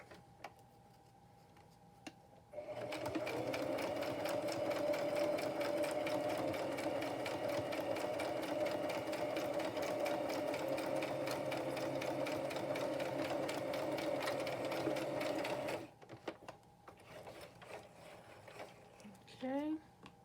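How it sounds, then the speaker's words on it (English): A sewing machine runs a zigzag stitch in one steady, loud burst of rapid mechanical whirring lasting about thirteen seconds, with quiet handling noises before and after. "Go back to my zigzag stitch."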